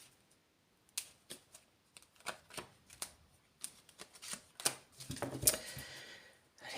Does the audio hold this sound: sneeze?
no